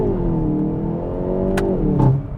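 A 2022 Hyundai i30 N with a dual-clutch transmission accelerating hard, heard from inside the cabin: a loud engine note climbing steadily in pitch, broken by two quick upshift blips near the end.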